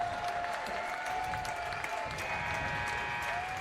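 Basketball fans at a boys high school game give a steady round of applause, a dense, even wash of clapping filling the gym for a few seconds.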